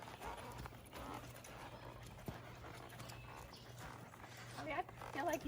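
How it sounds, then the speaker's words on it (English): Hooves of Wilson, a horse being ridden for the first time, clip-clopping in a steady walking rhythm, fairly faint, with a dog panting nearby and people talking quietly. "It's Leah's horse, Wilson."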